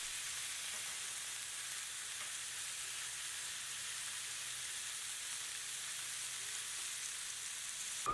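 Blackened blacktip shark steaks sizzle on a very hot griddle, a steady, even hiss of frying that holds unbroken throughout, close and alone.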